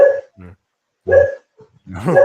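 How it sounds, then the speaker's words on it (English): A dog barks in a few short bursts with pauses between them, sounding moderately close and loud, with no talk over it. "the barking dog is back"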